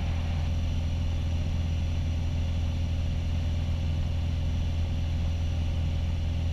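A Piper Arrow's piston engine drones steadily at high power in flight, a loud continuous low hum with no variation and no talk over it.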